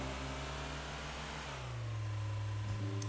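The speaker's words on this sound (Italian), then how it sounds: "Non so se sentite il motore come romba" A car engine in the Trader Life Simulator video game roars steadily with a deep, buzzing drone that rises in pitch partway through as it revs harder, loud and alone.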